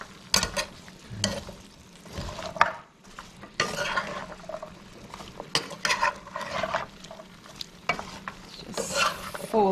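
Seasoned shrimp stirred and folded in a hot pan, with scraping utensil strokes and clattering against the pan over a steady sizzle, in irregular bursts close by.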